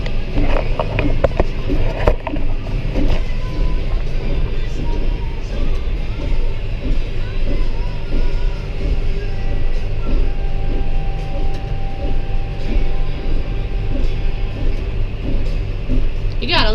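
Farm machinery hay baler working in a field gives a steady loud mechanical drone with a rhythmic knocking and clatter, heard close and continuous throughout.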